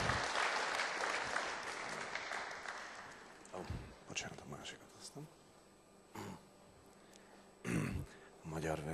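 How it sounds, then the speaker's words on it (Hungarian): An audience in a church service applauds loudly for a few seconds, the clapping fading away as a voice speaks over the quieter moments that follow. "Let's give them another applause."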